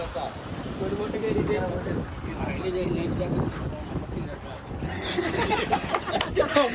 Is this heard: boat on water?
yes